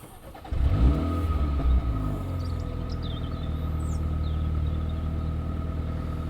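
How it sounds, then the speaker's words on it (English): The engine of a new Mini Countryman SUV cranks and catches, flaring briefly in a short rev before settling into a steady, even idle heard up close. "We'll start the engine."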